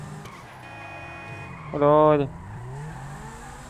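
A car in the video game GTA V drives along with a steady engine hum, then gives one brief, loud tonal squeal of skidding tires near the middle. Someone talks over it.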